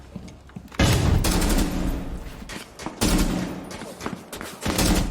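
Bursts of rapid gunfire crackle loudly in several volleys, separated by brief quieter gaps, from weapons firing up close in the game The Outer Worlds.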